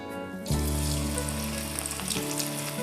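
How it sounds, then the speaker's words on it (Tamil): Shredded cabbage deep-fries in hot oil in a kadai. A quiet moment gives way to a sudden loud burst of bubbling sizzle that holds steady and full to the end. "இப்போ பரட்டி வச்சுருக்க கேபேஜ் எல்லாம் ஃப்ரை பண்ணி எடுக்கிறதுக்காக ஒரு கடாயில் எண்ணெய் வச்சுருக்கேன்"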